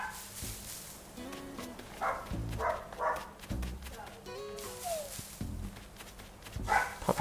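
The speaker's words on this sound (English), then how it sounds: "Puppy's barking in the back." A puppy barks in short, sharp bursts from the background, several yips and barks spread irregularly with quieter gaps, mixed with some whimpering.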